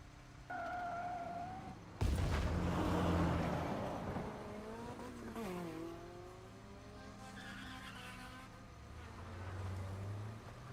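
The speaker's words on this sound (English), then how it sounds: "The motorcycle roars at full throttle as we weave through the N109 zone." Vehicle engine roaring and whining through a fast ride with a sharp burst and tire-skid noise, rising and falling pitch sweeps, from the game Love and Deepspace; the motorcycle is at full throttle weaving through a combat zone.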